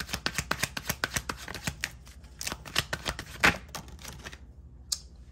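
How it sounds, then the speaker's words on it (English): Tarot cards are shuffled and flipped in quick, crisp bursts of riffling and slapping, close and fairly quiet, with no talking. "That card just wanted to flip in a circle."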